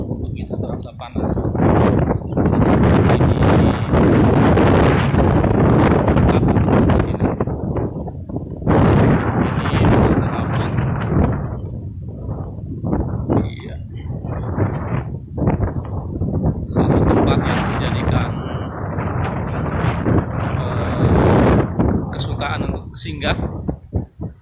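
Strong wind gusts on a hot seaside spot by a mosque set above the sea buffet the microphone in loud, rumbling bursts that rise and fall over the whole stretch.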